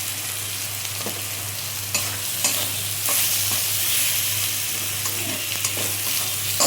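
Spices with Kashmiri chili powder fry and get stirred for a Bengali fish curry, a steady sizzle broken by several sharp spatula scrapes and knocks against the pan, loud and close.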